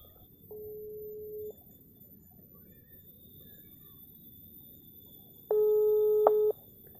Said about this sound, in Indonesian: Coba telepon ah.